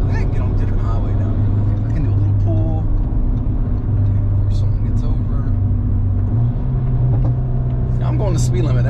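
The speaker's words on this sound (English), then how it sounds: "that little bit of throttle on the 3000 range really gets the pops going" Inside a VW Golf R MK8 with a DBV2 4-inch downpipe at light throttle around 3000 rpm, a steady loud engine and road drone runs throughout, broken by a few brief, sharp exhaust pops and crackles.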